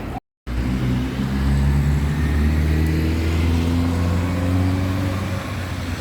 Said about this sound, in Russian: Здесь оживленное движение. Сегодня понедельник, и люди едут на работу.